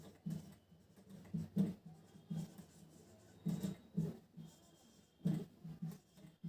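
Chalk or marker strokes sound during a class 10 maths lesson on real numbers, as quiet short scratchy bursts repeating irregularly at a close, faint level.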